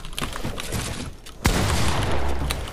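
Video game gunfire bursts out in a dense, loud volley partway through, preceded by scattered clicks and muffled action noise, with the shooting holding steady to the end.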